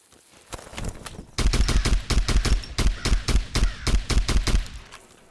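An AK rifle in the video game Zero Sievert fires on semi-auto: a dozen or more loud, sharp shots in a quick, even rhythm after one opening shot.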